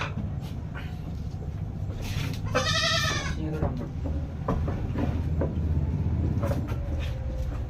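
A goat bleats loudly once in a wavering, harmonic cry, close by, with people talking around it and farm background noise.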